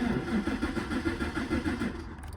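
A vehicle engine is cranked with the key, with the clutch in, and fails to start. The starter grinds in a steady churning rhythm for about two seconds, close and fairly loud, then cuts off.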